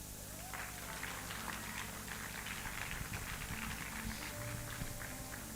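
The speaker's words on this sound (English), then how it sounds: "So give a round of applause to Caleb." An audience claps at a mental health summit, a dense, steady patter of many hands that holds at an even level from start to finish over a low room hum.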